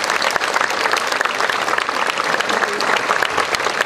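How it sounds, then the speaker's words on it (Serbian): An audience at a town's 150th anniversary celebration breaks into loud, sustained applause, dense clapping filling the room without pause. "U to ime molim bih jedan zaista veliki aplauz."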